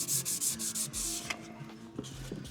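Resin on carbon fibre skinning for a Ford Cortina build sanded flat by hand, with repeated close rasping back-and-forth strokes followed by lighter rubbing and a few soft knocks.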